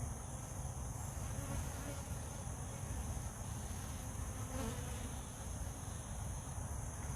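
Honey bees buzzing around an open hive, a soft, continuous, even hum of many insects at close range, faint throughout with no talking.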